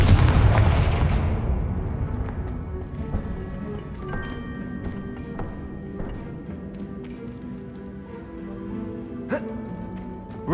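A Confringo fire spell explodes in the Hogwarts Legacy video game with one loud opening blast that decays slowly, followed by quieter sharp cracks and a final pop, with game ambience continuing underneath.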